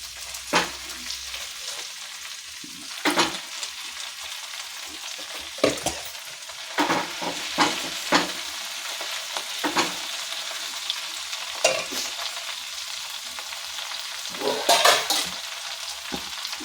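Sorrel (gongura) leaves fry in a pan for chutney, giving a continuous sizzle with intermittent scraping and stirring strokes close by, sharper bursts recurring every second or two.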